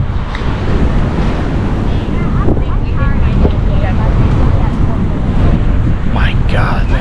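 Ocean surf and wind along the Hawaiian coastline at a blowhole area, a steady broadband roar with buffeting wind on the microphone throughout, loud and close, with voices talking over it.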